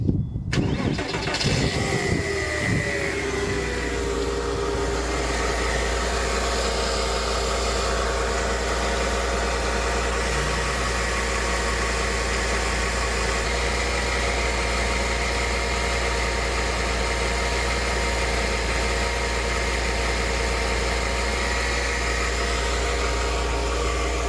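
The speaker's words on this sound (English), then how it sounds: "I'm just going to start the engine, put my stethoscope on and listen" A Porsche 986 Boxster engine cranks and catches, then settles into a steady, even idle with a constant low mechanical hum and faint whirring from the belt-driven tensioner and idler pulleys, close and continuous with no talking.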